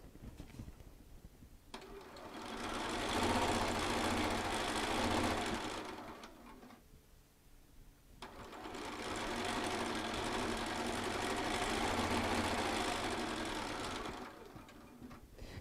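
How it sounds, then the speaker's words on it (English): A Bernina sewing machine runs in two long bursts of steady, fast stitching with a short pause between, close and fairly loud, with no talking over it. "And it will start sewing when I start sewing now."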